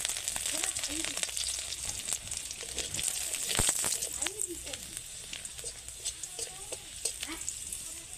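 Garlic cloves fry in hot oil, a close steady sizzle with crackling and spitting, while someone talks over it.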